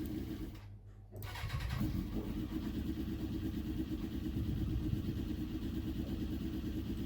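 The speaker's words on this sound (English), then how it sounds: "Refit the filler cap and then give it a little run." A motorcycle engine starts after a short crank and runs at a steady, even idle for several seconds while it warms up after a coolant top-up, heard close with no voices.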